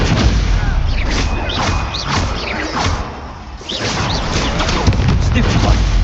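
Stupefy and other spells fire in quick succession in the Hogwarts Legacy open world, a loud run of whooshes and booming impacts with a short lull midway, voices shouting over the combat.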